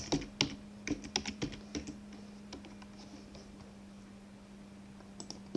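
Typing on a computer keyboard to name a new desktop folder, a quick run of crisp key clicks in bursts that thin out into sparse taps over a steady low hum, fairly faint and close.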